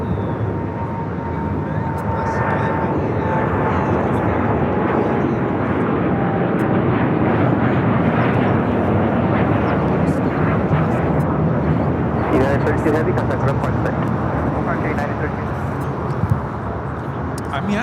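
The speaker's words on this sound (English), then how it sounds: "United Dreamliner rolling down at 25 right." A United Dreamliner airliner rolls down runway 25 right at LAX, its jet engines making a loud, sustained roar with a faint falling whine, while people talk over it.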